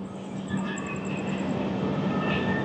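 A Duronto Express train runs after leaving Bhubaneswar, a continuous rumbling roll with a faint high squeal and steady rail noise heard from inside the carriage, no talking.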